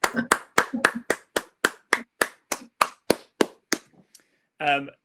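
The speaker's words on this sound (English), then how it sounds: "I'm going to clap on everyone's behalf" One person clapping hands on a video call, about thirteen sharp, evenly spaced claps close to the mic that slow and soften toward the end, followed by a short voice.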